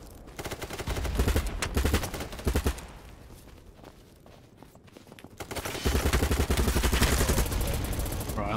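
AK74 rifle gunfire in the game BattleBit Remastered: loud automatic bursts in two sustained stretches with a quieter lull between, trailed by mechanical clatter and faint footsteps.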